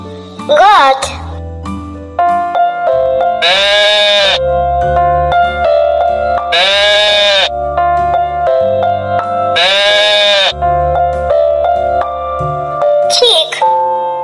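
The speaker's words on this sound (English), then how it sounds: "Goat." A goat bleats in a children's animal-sounds song, three loud wavering calls spaced evenly over a continuous musical accompaniment.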